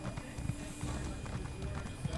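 Horse hooves clip-clop quietly as a rider climbs a mountain in Elder Scrolls Online, a faint, even trotting rhythm of soft thuds.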